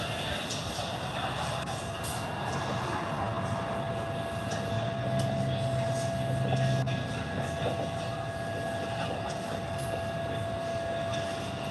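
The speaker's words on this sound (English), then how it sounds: "We are continuing to vent gas. That is normal at this stage of the countdown." A SpaceX Falcon 9 Block 5 rocket vents gas on the launch pad during its countdown before a Starlink launch, a steady broad hiss and roar heard from a distance with faint constant tones above it.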